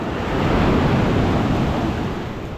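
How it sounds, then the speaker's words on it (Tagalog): Loud, rushing surf as strong ocean waves crash and swell at Sabang, Baler, Aurora Province, a broad roar that builds and eases slightly over a few seconds, with no talking. "lakas ng alon"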